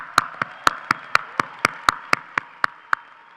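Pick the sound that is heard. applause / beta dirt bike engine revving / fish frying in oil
applause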